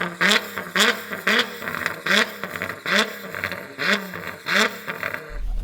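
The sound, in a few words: Toyota Land Cruiser 300 GR Sport engine and exhaust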